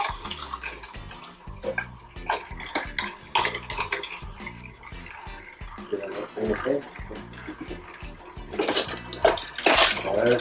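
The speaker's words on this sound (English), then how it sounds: "Let's see our new whole slow juicer is taking the whole carrot in." Kuvings slow juicers, a B6000S whole slow juicer and a Silent Juicer SC, crunch and grind whole carrots in irregular bursts of cracking and scraping, with faint talk in the background.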